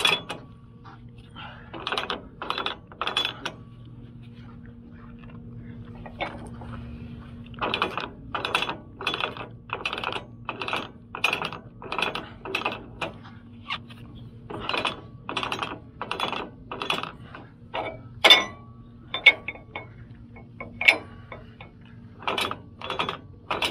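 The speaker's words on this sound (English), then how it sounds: "I just spool some up and pull on it to tighten it up" A load strap winch on a truck hauling a full 40 ft load is spooled and tightened in bursts of rapid metallic ratchet clicks, clustered in groups with short pauses between, close and fairly loud.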